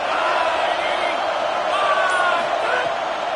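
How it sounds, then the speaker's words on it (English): In a college football video game against UGA, a stadium crowd roars behind the defense in the red zone, a dense, steady wash of noise under a commentator's voice. "The crowd getting behind this defense as they try to get a stop in the red zone."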